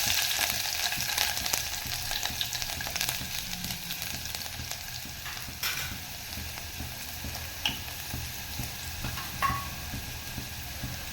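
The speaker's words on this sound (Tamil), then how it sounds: "கடுகு வச்சிருச்சு இப்போ நம்ம பூண்டு போட்டுக்கலாம்" Garlic frying in oil after mustard seeds have spluttered, a moderate continuous sizzle with scattered small pops and a few louder crackles near the pan.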